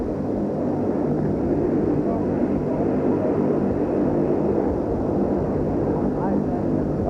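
A propeller or jet airliner approaches to land at Love Field in Dallas, its engines a steady, loud, broad rumble that fills the whole stretch, with a voice talking over it.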